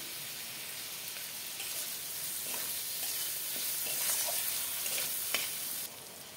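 Spice paste of ground cumin, coriander, turmeric, chopped tomato, salt and slit green chillies fries in a pan for a potato and pointed gourd curry with giant prawns, a steady close hiss and sizzle broken by a few sharp spatula scrapes.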